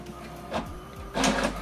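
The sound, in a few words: HP printer printing an alignment page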